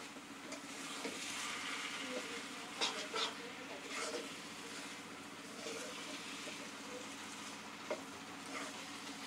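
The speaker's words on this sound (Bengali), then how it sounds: "এবার এই মশলাটা সবজি এবং নুডলস এর সঙ্গে ভালোভাবে মিশিয়ে নেব" Noodles, vegetables and masala are stirred together in a hot pan, giving a steady sizzle with soft scraping and shuffling throughout. The sound stays even and close, with no talking.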